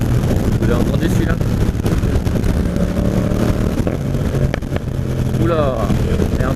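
A Yamaha MT-07 Tracer motorcycle exhaust with the baffle still fitted, a low engine drone under heavy wind buffeting while riding, with a couple of rising revs near the end.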